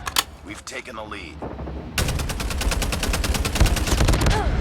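Rapid automatic gunfire from a video game, a sustained fast burst of shots dominating the second half after scattered earlier shots and effects, loud and close.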